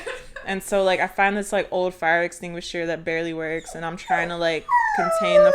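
A restless dog whimpers, yips and whines indoors in repeated high, wavering cries close by, layered under a person talking continuously.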